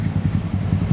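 A motorcycle runs close by on the road during a day ride, a steady low engine drone with rhythmic pulsing throughout the short moment, fairly loud and without voices.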